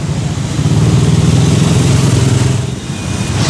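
Vehicle engine noise on a city street in Mandaluyong where a Lexus is being towed for illegal parking, a loud steady motor rumble that idles and revs slightly nearby.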